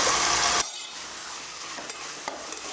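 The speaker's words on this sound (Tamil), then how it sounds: "உப்பு போட்டு கிளறி விட்டாச்சு" Potatoes and eggplant with salt are stirred in a pan. A loud scrape at the start gives way to a steady, quieter sizzle with occasional soft knocks.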